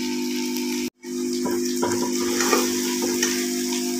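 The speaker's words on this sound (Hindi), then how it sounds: "इस तरह से हम चिकन भी साथ में फ्राई कर लेंगे और भिंडी।" Steady sizzling of okra and chicken frying together in a pan, with occasional crackles and stirring scrapes, a brief dropout near the start, no talking.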